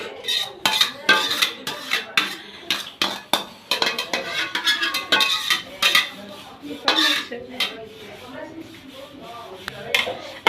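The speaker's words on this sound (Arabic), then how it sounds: "هقلبها بقى في الصلصه وكده خلاص خلصت معايا" A utensil stirs meat in tomato sauce in a metal pot, giving repeated quick clanks and scrapes in an uneven rhythm, close and fairly loud, with some talking in the background.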